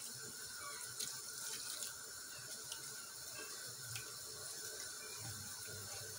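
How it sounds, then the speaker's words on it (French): Boiling water poured over couscous for sefa mdfouna runs as a steady, close stream with a constant watery hiss and no voices. "On va mettre un verre de l'eau bouillante."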